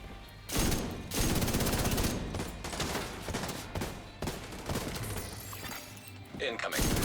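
Rapid gunfire and explosions from a shooter video game, loud bursts of automatic fire and impacts crowding together almost continuously, with a brief lull near the end.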